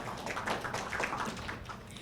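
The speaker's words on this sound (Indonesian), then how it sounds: "Tepuk tangan dong untuk Mas Heri Pemat." Applause for Mas Heri at a live event: a brief patter of many hands clapping at a fairly even, moderate level, with no voices.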